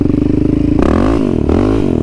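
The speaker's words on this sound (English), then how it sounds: "I'm just gonna give it a little blip of the throttle" A Yamaha Raptor 700 ATV engine gets a quick throttle blip, rising from a steady, loud, close idle into a brief rev and then settling again.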